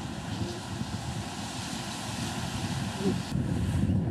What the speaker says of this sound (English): It's quite windy here today.